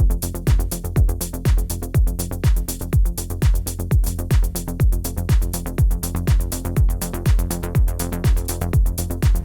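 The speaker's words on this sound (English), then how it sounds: "now we're going to send the bass there and we can get this stereo ping pong delays." A bass groove with crisp repeating hits, each note echoing back and forth in quick stereo ping-pong tape delay repeats, steady and continuous throughout.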